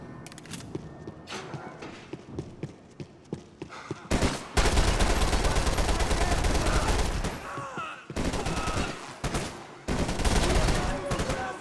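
Bursts of gunfire from the video game Max Payne 3: sparse sharp shots at first, then a loud dense fusillade with brief gaps, close and continuous near the end.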